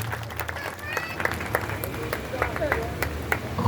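A congregation at a memorial service applauds to welcome the pastor, a dense, even spread of clapping from a crowd in a large room, with faint voices mixed in.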